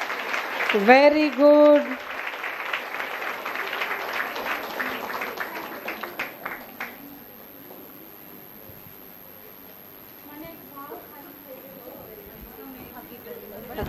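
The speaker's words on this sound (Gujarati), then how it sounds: "જોરદાર તાળીઓથી વધાવીએ." Audience applause at a Women's Day gathering, a burst of clapping that fades and thins out over several seconds, with a voice speaking briefly over it.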